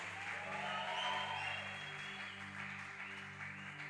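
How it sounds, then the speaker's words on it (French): A church congregation applauds and cheers during a worship service with a broad, distant roar of clapping and voices over a sustained organ-like tone. "Reçois nos acclamations."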